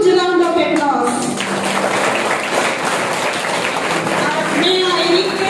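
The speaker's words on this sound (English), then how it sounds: "welcome the great dynamic person with a huge round of applause" A large audience of students claps at an investiture ceremony, dense broadband applause sustained at steady loudness from start to finish, with a voice speaking over it near the beginning.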